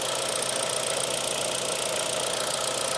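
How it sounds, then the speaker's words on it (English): A 2013 Kia Rio engine running steadily, a continuous even drone with a faint knocking texture at close range, recorded under the hood during a no-power-steering diagnosis; no voices present. "you hear the vehicle is firing"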